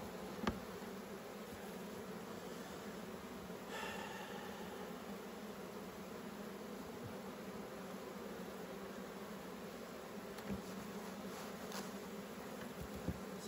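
Honeybees buzz in a steady, fairly faint drone from an open hive during an inspection of brood and pollen frames, with a few brief knocks and clicks over the continuous hum.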